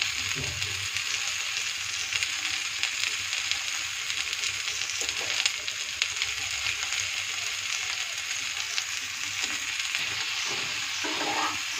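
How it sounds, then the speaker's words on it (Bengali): Pumpkin pieces with slit green chillies frying in a pan, a steady broadband sizzle running the whole time with faint scraping stir strokes underneath, close and even, no talking. "তারপর ভালো করে একটু নেড়ে চেড়ে নেব"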